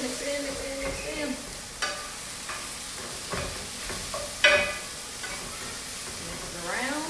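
Cauliflower fried rice with scrambled egg being stirred in a hot pan, a continuous sizzle broken by scraping spatula strokes and a louder clatter midway, close and without speech.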